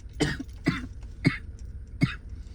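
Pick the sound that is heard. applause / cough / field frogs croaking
cough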